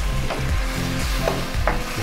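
Chopped vegetables sautéing over high flame in thickening chilli chicken sauce for Chinese dry chicken chilli, a steady close sizzle with a few soft scrapes of stirring and no talk.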